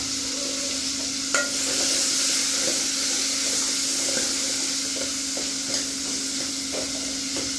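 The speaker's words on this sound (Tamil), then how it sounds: "நல்லா வதக்கிக்கணும்." Green chillies and tomato sautéing in a pan for a greens kuzhambu, a steady close sizzle with occasional scraping stirs of a spoon, no voices.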